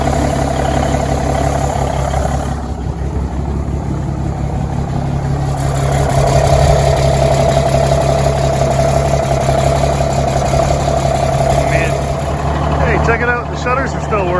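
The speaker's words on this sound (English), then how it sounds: "Oh, listen to that smooth," The engine of a Smokey and the Bandit tribute truck, fitted with air cleaners, idles in the cold with a loud, smooth, steady low rumble that holds unbroken throughout.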